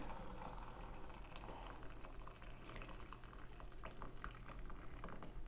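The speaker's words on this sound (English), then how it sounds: "we're taking our water, pouring it into our heat-proof container" Water runs into a heat-proof container, a steady bubbling, churning liquid sound held evenly throughout, faint and close, with no voices.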